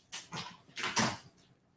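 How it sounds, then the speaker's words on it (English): A dog whimpers and whines in a few short, fairly close bursts, with rustling between them and no talking. "Hey, sweet doggy."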